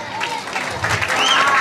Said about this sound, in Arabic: أيضاً تصفيق حارة لكم